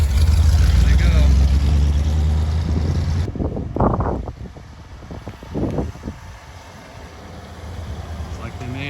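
A classic 1957 Ford Thunderbird drives away, its engine rumble and wind noise loud at first, then fading into the distance while people talk nearby.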